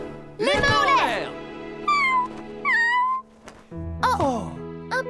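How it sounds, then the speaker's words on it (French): A cat meows several times up close, loud drawn-out cries with pauses between them, one ending in a rising wail. "Tout ce tintamarre n'était dû qu'à un tout petit chat affamé."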